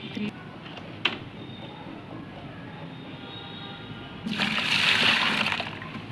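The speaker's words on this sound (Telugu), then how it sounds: "ఇందులో పోసుకుందామండి, ఎందుకంటే మనకి 2 బకెట్లు ఫుల్ అవ్వాలి కదా." Jeevamrutam liquid, a garden fertilizer, poured into a bucket: a quiet stretch, then a rushing, splashing pour swells up near the end and runs for over a second.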